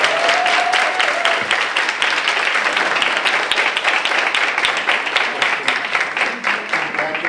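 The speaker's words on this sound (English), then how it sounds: "So let's give all of them a big round of applause." Sustained applause from an audience at an adoption day court ceremony, dense steady clapping filling the room from start to finish.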